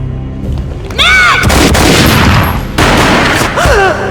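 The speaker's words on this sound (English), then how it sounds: "A gunshot boomed and she fell down in slow motion." Gunfire in a Max Payne video game mod: loud booming shots in two dense bursts with short gaps, interleaved with whooshing, swooping slow-motion effects and a low rumbling background, with no talk.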